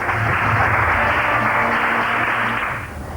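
A theatre audience at the Edinburgh Festival breaks into warm, sustained applause. The dense, steady clapping holds at full strength, then eases off slightly at the very end.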